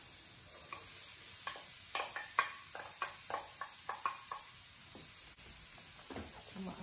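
Onions and carrots sizzle in olive oil in a pan while a utensil stirs them, giving a steady fry hiss broken by a run of crisp scraping clicks, close and moderately quiet.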